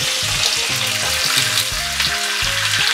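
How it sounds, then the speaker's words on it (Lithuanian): Chopped onion fries in butter in a pan used to fry chicken, giving a loud, steady, close sizzle with occasional stirring. "Svogūną kepinsim iki parudavimo."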